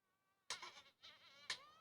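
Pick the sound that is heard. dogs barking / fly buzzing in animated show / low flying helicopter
fly buzzing in animated show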